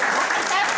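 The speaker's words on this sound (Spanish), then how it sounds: "un aplauso para la doctora también" Applause for a doctor at a Spanish cultural centre exhibition event, a short, dense burst of clapping from an audience filling the room at steady loudness.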